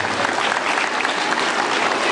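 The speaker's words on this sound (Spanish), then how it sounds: "se merecen un reconocimiento con un fuerte aplauso" Applause from a school audience honouring children at a flag ceremony, dense and steady for the whole stretch, loud and close with no pauses.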